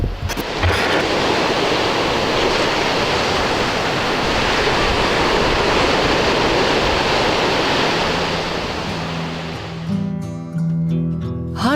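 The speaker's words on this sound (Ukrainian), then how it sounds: "Гарний краєвид, свіже повітря і звук морських хвиль." Continuous roar of sea surf washing in, broad and loud, with a brief low rumble near the end.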